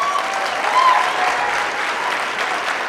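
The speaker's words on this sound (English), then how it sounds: "Round of applause." Applause at a Women In Trucking awards salute, a full crowd clapping steadily and loudly for the whole stretch as one continuous wash of sound.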